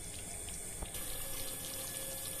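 Water poured into a pot of aloo gosht curry in a home kitchen, a steady, soft, continuous rushing trickle with no talk.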